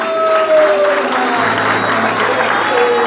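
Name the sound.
church congregation applause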